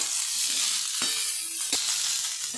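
Eggplant and potato frying in a pan give a steady, bright sizzle, broken twice by a short spatula knock or stir.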